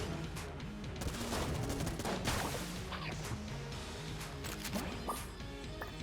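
A pulse cannon in the game Enter the Gungeon fires rapid, dense bursts of shots without pause, amid clattering impacts and busy game effects.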